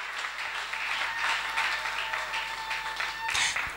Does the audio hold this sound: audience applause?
yes